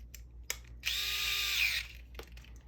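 A power drill briefly runs to tighten hardware on a CEN Racing F450 RC truck, one close, steady whir of about a second, bracketed by a few small clicks and handling taps.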